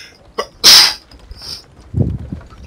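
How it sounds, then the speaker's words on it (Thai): One sharp, loud sneeze comes close to the mic, with a short intake of breath just before it. Quieter low murmurs and rustling follow. "จามแป๊บนึงว่ะ จาม"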